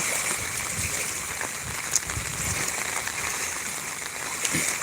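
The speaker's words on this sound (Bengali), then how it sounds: "বৃষ্টি তো হচ্ছে" Steady rain falls outdoors during a flood in Sylhet and Sunamganj, a continuous hissing wash of drops with gusty wind and lapping water, moderately loud throughout with a couple of sharper splashes.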